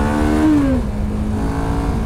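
A Chang-Jiang 650 Pekin Express motorcycle engine revs up close and loud, its pitch climbing briefly then settling into a steady drone, with no talking.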